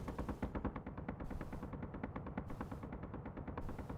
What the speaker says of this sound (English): Interceptor's taking a lot of fire and it's going down.